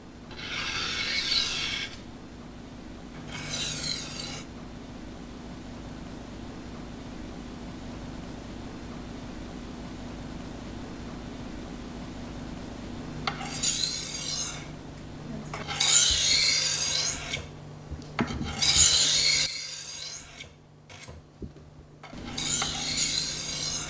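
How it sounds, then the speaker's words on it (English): A European-style knife is sharpened on a whetstone, with several separate bursts of gritty, rasping strokes between quiet pauses, close and moderately loud. "Place the guide toward the end of the stone and position the knife blade on the guide. Remove the guide and begin sharpening."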